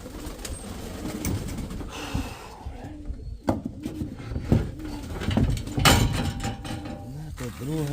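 Pigeons coo in a village, low rolling calls repeating close by amid rustling, mechanical clicks and shifting background noise.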